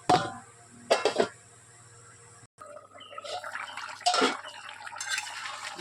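A lid goes onto a cooking pot of meat and potatoes with two distinct metallic clanks a few seconds apart, separated by quiet, then a light rattle and faint bubbling.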